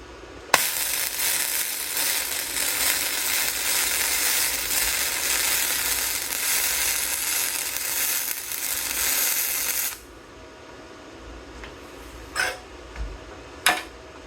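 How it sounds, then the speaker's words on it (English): Bestarc MIG145 welder flux core welding metal with a loud, steady crackling hiss sustained for about nine seconds, then stopping, followed by a few sharp clanks and taps nearby. "let's try a little welding again"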